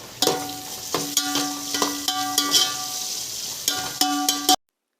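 Onions and green chillies sautéing in a pan for kuska biryani, a steady sizzle punctuated by sharp metallic taps and scrapes of a ladle, close and loud, cutting off abruptly at the end.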